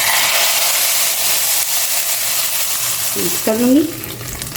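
Loud, steady sizzling fills the clip as a hot tadka of fried onions is poured onto mutton haleem, with a brief burst of stirring and clinking near the end and a quick spoken phrase.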